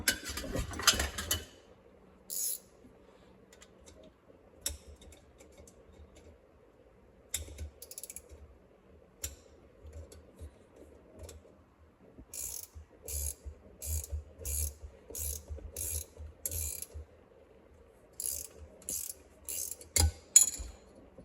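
A ratchet wrench clicks in short, rapid bursts while tightening a nut on a Corondo 12-inch avocado green fan, with quieter metallic handling between the runs of ratcheting.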